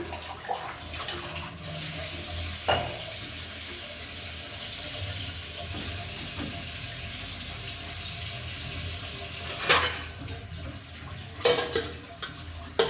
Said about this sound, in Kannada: ಇದನ್ನು ತೊಳ್ಕೊಂಬಿಡ್ತೀನಿ ಪಾತ್ರೆನ.